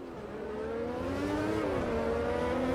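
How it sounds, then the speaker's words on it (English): Formula Classic Gen 1 open-wheel race car engines in the Automobilista 2 racing game at the Adelaide circuit, a loud buzzing whine that climbs and dips in pitch as the throttle is worked, continuous with no talk. "You can just hear how hesitant they are to get on the throttle out there."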